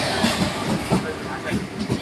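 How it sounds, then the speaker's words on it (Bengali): A passenger train pulls into a station in the rain, its wheels clattering in a rhythmic clickety-clack close by, with voices talking over the rolling noise. "ট্রেন এখন চলে এসছে আর আমরা এখন উঠবো ট্রেনে"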